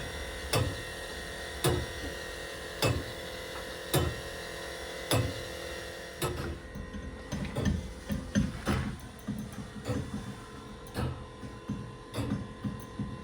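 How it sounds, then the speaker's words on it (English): Turret clock at St Laurence Church, Rowington, Warwickshire, with exposed gears and an automatic winder hauling the weights up by pulley: steady regular ticks at first, then busier mechanical clatter and whirring under a constant motor hum, close by. "here the automatic winder is working at the moment"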